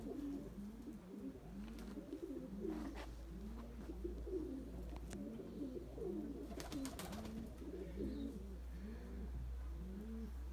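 A flock of pigeons coos continuously, overlapping low throaty calls with a faint steady hum underneath and no talking.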